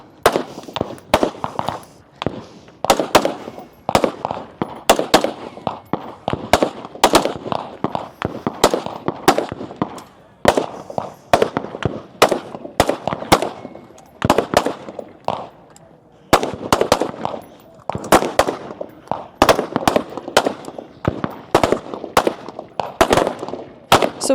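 Rapid rifle shots fired in quick succession at a tactical games competition stage, a long string of sharp loud cracks with brief pauses between bursts, low talk faintly underneath.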